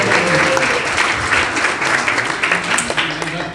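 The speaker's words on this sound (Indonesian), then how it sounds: "Kita beri tepuk tangan luar biasa." An audience applauds steadily at a church sermon, honouring newly graduated missionaries; the dense clapping fills the whole stretch with no talk over it.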